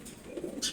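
Pigeons kept in a cage give a brief, faint low cooing, a soft murmur lasting under a second.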